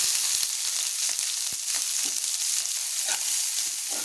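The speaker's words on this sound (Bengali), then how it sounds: "পেঁয়াজ কাঁচা লঙ্কাগুলোকে দিয়ে একটু আমি নাড়াচাড়া করে এগুলোকে ভেজে নেব হালকা" Chopped onion and green chili fry in oil in a pan, a steady close sizzle with scattered light clicks and scrapes from stirring, continuous and without voices.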